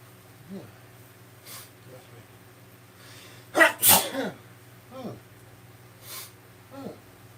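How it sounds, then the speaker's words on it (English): One sharp, close sneeze bursts out midway, framed by soft breaths and small snorts before and after. "I sneezed because I was cleaning out the fan before"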